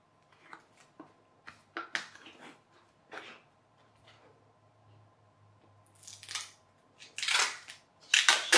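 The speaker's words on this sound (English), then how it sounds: "Grandad is no good at tearing duct tape." Short ripping bursts of duct tape being torn by hand, scattered and uneven, with louder sharp tears toward the end; quiet pauses in between and no talking.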